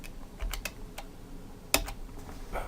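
Scattered keystrokes on a computer keyboard, a few light taps and one sharper clack near the middle, close and quiet with no talk.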